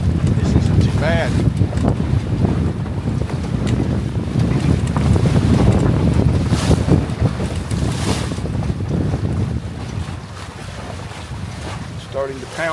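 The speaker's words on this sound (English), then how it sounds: "There's some bigger gusts." Strong, steady wind roars across the microphone aboard a Catalina 22 sailboat with a reefed main, gusting toward 25 knots, with water rushing and slapping along the hull throughout and swelling louder in bursts.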